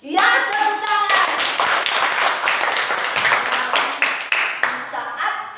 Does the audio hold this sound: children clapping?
yes